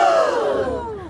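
A tour group at the Tower of London lets out a brief collective gasp, a rising burst of many voices sliding downward in pitch and trailing off within about a second.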